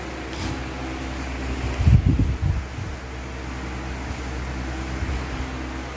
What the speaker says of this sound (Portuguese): O ventilador vai fazer barulho